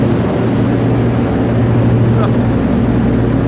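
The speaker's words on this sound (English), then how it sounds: "That is 16 cylinders of diesel awesomeness." A Cummins V16 turbo diesel generator runs under load, a steady loud low drone with constant rumble throughout, with no break or change in level.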